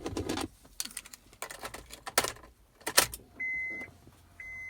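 Electronics in a 2006 Honda Pilot coming to life, with close clicks and clatter followed by a steady electronic whir that stops and resumes, no talking.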